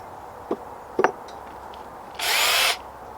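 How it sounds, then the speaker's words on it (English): A power drill pre-drills holes in wood for a weasel box, running in one loud steady burst of under a second after a few short knocks and taps on the workpiece. "So first thing we're going to do is we're going to drill some holes. Let's pre-drill."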